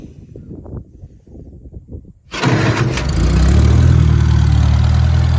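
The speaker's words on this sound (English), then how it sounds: "Let's go ahead and fire it up." A 1951 International Farmall tractor engine cranks with a few rhythmic turns, catches abruptly and settles into a loud, steady, close running rumble.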